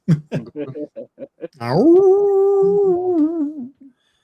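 A man imitates a wolf with his voice: a few short yips and barks, then one long, steady howl that rises and fades, heard close and clear with no other sound.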